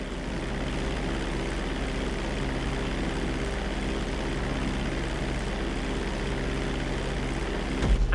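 Steady propeller-plane engine drone from a fixed-wing aircraft in flight during a GTA 5 flight school lesson, a constant loud hum holding evenly throughout with a slight swell at the very end.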